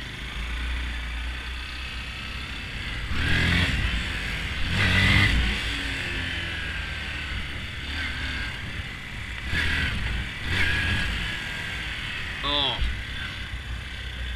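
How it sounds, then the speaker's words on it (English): A Honda Grom small motorcycle revs up and down while being ridden for wheelies, its engine droning steadily with a few louder swells. A voice speaks over it. "Little bike wheelies."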